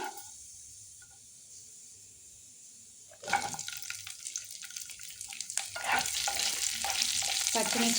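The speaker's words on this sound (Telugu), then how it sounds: "కొంచెం జీలకర్ర అలా కొంచెం వేగంగానే పచ్చిమిర్చి" Cumin seeds and green chillies hit hot oil in a pan while making raw tomato pachadi, starting as a quiet hiss and breaking into a lively crackling sizzle with stirring that builds over the last few seconds.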